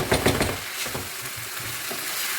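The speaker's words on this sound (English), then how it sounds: "And that sizzling sack" Steady crackling sizzle of minced meat frying in a pan for meat pie filling, with a few stirring scrapes near the start, close and continuous.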